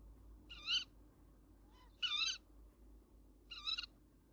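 Owl calling from inside a nest box, three short raspy screeching bursts spaced about a second and a half apart, close and clear over a low steady background hum.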